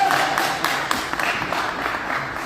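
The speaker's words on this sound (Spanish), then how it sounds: "Bueno, ese aplauso." Applause at an evening public event, a dense, steady patter of many hands clapping at moderate loudness throughout, without clear speech.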